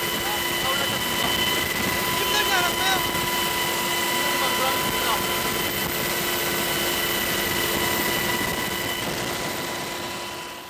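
Military helicopter flying during a high-altitude rope extraction exercise in gusty wind, a steady loud rotor and engine drone that holds throughout and fades slightly at the end.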